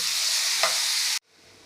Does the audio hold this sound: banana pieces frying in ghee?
yes